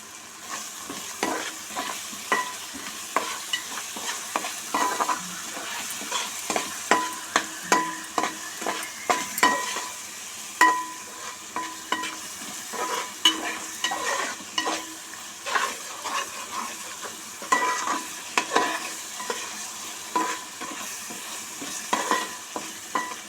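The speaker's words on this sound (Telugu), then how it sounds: "ఇప్పుడు తగినంత సాల్ట్ వేసుకుని మళ్ళీ కలుపుకొని" Pudina rice masala with salt sizzles in oiled pan while a spoon stirs it, giving a steady frying hiss broken by repeated scraping and clinking strokes throughout, close and fairly loud, with no talking.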